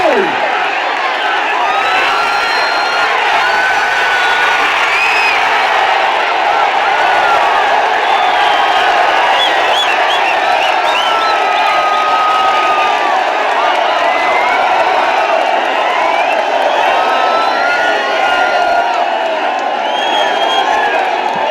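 Spectators at a best-of-three final match fill the scene with continuous crowd noise, cheering and whoops with scattered clapping, steady and fairly loud throughout.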